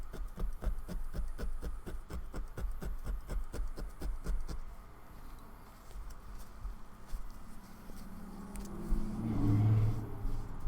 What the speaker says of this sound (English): that was a suddenly loud vehicle